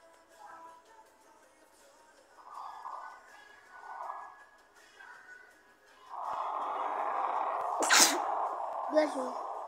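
A sneeze bursts out sharply near the end, loud and close, after stretches of quiet indoor talk and a sustained voice just before it.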